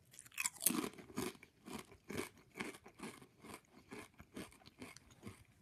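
Lay's kettle cooked chips, everything bagel and cream cheese flavor, being chewed up close: an opening loud crunch followed by steady rhythmic crunching and chewing at about two bites per second, quiet otherwise with no talk.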